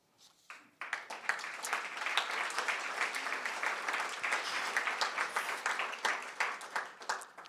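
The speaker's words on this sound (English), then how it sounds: "I feel guilty when you clap every time." A small audience at a poetry reading breaks into clapping after a poem, starting quietly and swelling into steady, moderately loud applause of many hands that continues to the end.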